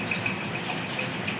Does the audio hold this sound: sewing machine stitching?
no